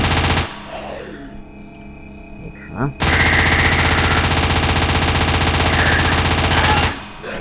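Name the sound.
gunfire in horror video game Living Nightmares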